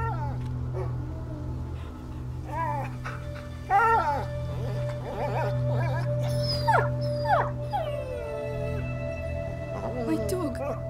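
A dog whines and howls in A Plague Tale: Innocence. Drawn-out, wavering whimpers and rising howls repeat over a steady low hum, fairly close and clear throughout.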